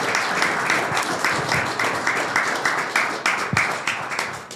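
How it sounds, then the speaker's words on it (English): A lecture audience claps for the speaker Ryan, a dense, continuous round of applause from a full room that holds steady and fades slightly at the close. "Can we give Ryan another round of applause?"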